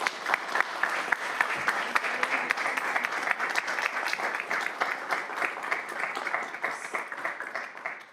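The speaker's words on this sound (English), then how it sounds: "If we can please give Miss Hilda Plasencia a big round of applause." Audience at a city council special meeting applauds an honoree, a sustained round of moderate clapping with distinct individual claps, fading slightly toward the end.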